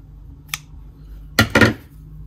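Scissors trimming thread on a Minerva M5000CL coverlock overlocker, giving one small snip and then two sharper close cuts in quick succession in a quiet room.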